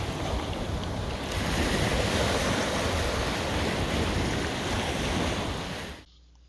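Ocean surf washes onto a beach at Point Whitehorn, a steady, loud roar of swash and backwash with wind buffeting the microphone, cutting off abruptly near the end.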